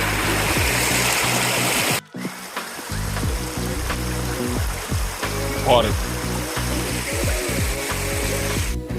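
A stream flows beside a hiking trail on the Appalachian Trail, a steady broadband rush of water heard close with a brief dropout early on and some clicking and rustling over it.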